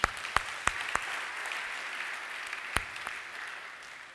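A church congregation applauding during a Sunday worship service, a steady wash of clapping with a few sharp, close claps standing out.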